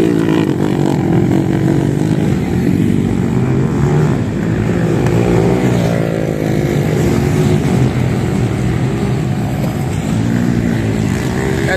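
Small motorcycles race on a dirt motocross circuit in Tarapoto, Peru, their engines a dense, continuous buzzing roar that stays loud and steady throughout, with no clear pauses between passes.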